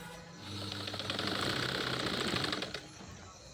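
A sewing machine stitches a katori blouse, a fast, even mechanical whirring rattle that starts after a brief pause, runs steadily for about two seconds, then stops.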